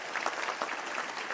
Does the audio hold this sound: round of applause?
yes